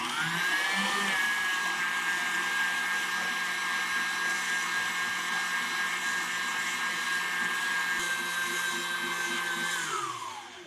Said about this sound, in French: On continue continuellement à fouetter.